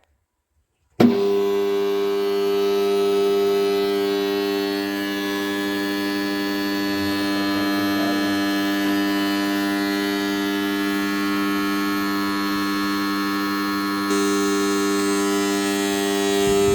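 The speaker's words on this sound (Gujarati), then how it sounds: "ચાલો પાવર આવી ગયા છે તો આપણે કરીએ મોટર ચાલો જોજો કેવો અવાજ આવે" An electric water pump motor for irrigating a groundnut field switches on after a second of silence and runs with a steady, loud, droning hum and buzz that holds unchanged to the end.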